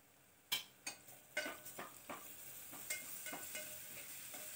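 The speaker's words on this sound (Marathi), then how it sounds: "आपला कांदा भाजलेला आहे, मी आलं लसूण पेस्ट टाकणार आहे 1 चमचाभर" Sliced onion and a spoonful of ginger-garlic paste hit a hot pan for moong masala khichdi, sizzling steadily as a spoon scrapes and stirs in several sharp strokes, close and alone.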